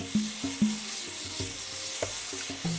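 Lamb meat is stirred into a pan for a creamy lamb pie, with a series of short rhythmic spoon knocks and scrapes over a soft steady sizzle, close and alone.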